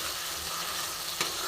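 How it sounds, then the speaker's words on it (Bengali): Spice masala sautés in oil over a raised flame for chicken cutlet filling, a steady close hiss of frying with one brief crackle near the end and no speech. "এবার ভালো মতন কষে নেব।"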